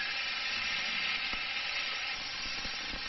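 Mushrooms with tamarind and coriander sauté in a pan, giving a steady, soft sizzle with a few faint stirring clicks near the end.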